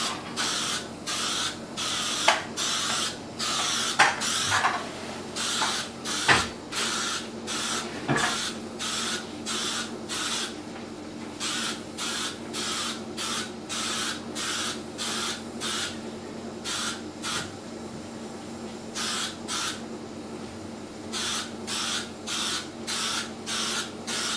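A spray gun lays a very light first coat of paint on a Nissan Pulsar GTiR car bumper in a series of short rhythmic hissing bursts with brief gaps, steady pattern over a faint background hum, no talk.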